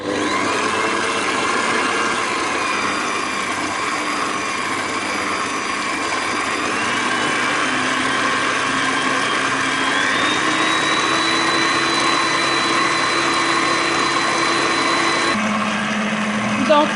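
Electric hand mixer whirring steadily as it beats sugar and vanilla sugar into a foam for mouskoutchou, a continuous close motor drone with slight pitch shifts, a voice talking over it.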